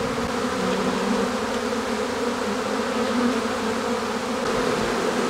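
Honeybees fanning their wings at the entrance of a colony recovered in the open air, signalling the queen is present, make a dense, continuous buzzing hum that holds steady throughout, close and fairly loud, with no voices.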